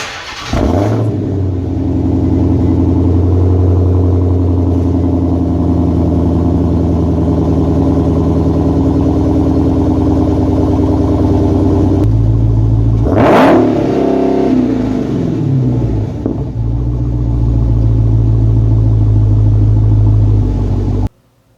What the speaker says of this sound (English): And here's a clip of its exhaust sound.